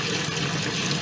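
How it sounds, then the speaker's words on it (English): Water pours continuously into a basement sump pump pit to prime a newly installed pump, making a steady close-up rush and splash with no voices. "So I'm going to put water in the hole."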